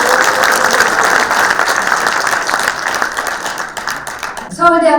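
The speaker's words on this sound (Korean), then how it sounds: "큰 박수 부탁드립니다." An audience at a Korean healthcare forum at a university graduate school of public health applauds loudly and steadily, the clapping thinning near the end as a voice begins.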